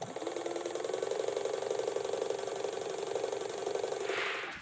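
A sewing machine top stitches fabric at a small seam allowance, a fast, steady mechanical rattle close by, running continuously before stopping abruptly at the end.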